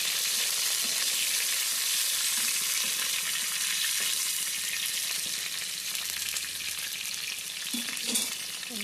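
Green chillies and cumin seeds fry in hot oil for a gongura egg curry, giving a steady, close sizzle with a soft crackling hiss that runs on evenly, with no one talking.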